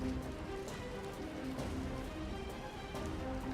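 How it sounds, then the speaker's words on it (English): Steady rain from a rain spell in the video game Divinity: Original Sin 2 patters on a surface, a constant dense hiss of drops with no letup, fairly faint. "I'm going to go ahead and put rain here."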